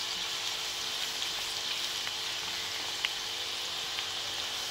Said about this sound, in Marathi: अजून थोडा वेळ आपण कांदा हा भाजून घेऊया.